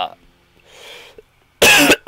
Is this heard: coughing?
yes